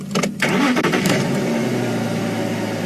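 A safari vehicle's engine cranks and catches on a wildlife drive, a brief starter whir followed by a steady mid-pitched idle, close and loud with no talking.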